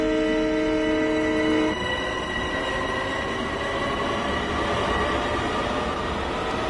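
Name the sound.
M7 train pulling away at full power, Train Sim World 2 video game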